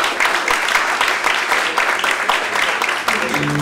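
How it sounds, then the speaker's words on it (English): Audience applause at a Greek solidarity rally in London, a dense steady wash of clapping filling the room for nearly four seconds, loud and close throughout. "please give them a round of applause"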